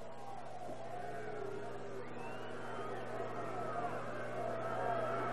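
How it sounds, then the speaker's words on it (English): Sellout crowd at Mackey Stadium for a 1986 Georgia Southern at Nevada college football game, a steady distant murmur of hubbub filling the background throughout with no sharp cheers. "There's a sellout crowd"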